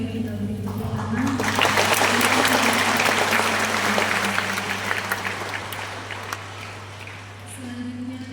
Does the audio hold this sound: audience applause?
yes